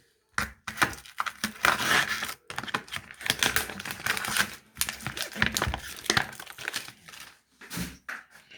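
Knife cutting pork tenderloin into thick rounds on a board, heard as rapid close clicking and scraping bursts broken by brief pauses, with no talk.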